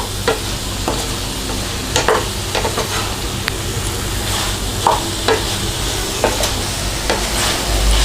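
Fried chilli chicken being tossed and mixed in a hot pan for a restaurant-style dish: a steady close sizzle with repeated scraping stirs and spatula knocks at irregular intervals, no voices.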